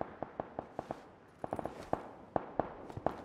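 Gunfire from a distance in PUBG during a foggy match, Mini-14 in play: a scattered string of sharp shots in uneven bursts, moderately faint, with no talk over it.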